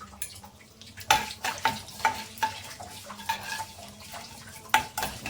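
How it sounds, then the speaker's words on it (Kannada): Fenugreek, cumin and curry leaves fry in oil for a home-style fish curry, with a low sizzle under repeated spatula scrapes and clinks against the pan. "ಇದಿಷ್ಟು ಸ್ವಲ್ಪ ಫ್ರೈ ಆಗಲಿ."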